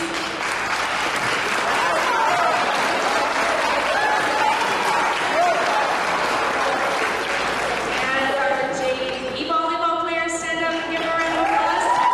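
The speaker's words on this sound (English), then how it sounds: "give them a round of applause, please" Club volleyball players are applauded at an athletic awards ceremony: sustained crowd clapping fills the room for about twelve seconds, thinning slightly near the end as a few voices and a tonal sound rise over it.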